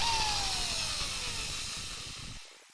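Power drill running in reverse with a countersink bit in soft material, a whirring motor whose pitch slowly falls as it winds down before cutting off abruptly near the end.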